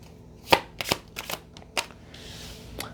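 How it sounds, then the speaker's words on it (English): Tarot cards riffled and shuffled by hand, a run of crisp separate bursts of slapping and flicking followed by a soft continuous shuffle, near and fairly quiet. "people enjoy the shuffle on camera"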